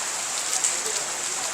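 Rain falling on a street in the old walled city of Lahore, a steady hiss of drops on hard surfaces with faint patters, soft and continuous and with nothing else on top.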